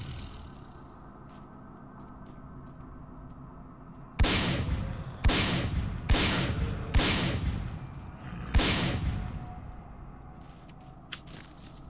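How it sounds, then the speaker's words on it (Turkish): Five heavy pump-shotgun blasts fired at a creature in S.T.A.L.K.E.R. Clear Sky, loud and close, spaced unevenly over several seconds, with quieter clicks and game ambience before and after. "şu yaratığı öldürmenin en kolay yolu bu pompalı oluyor arkadaşlar"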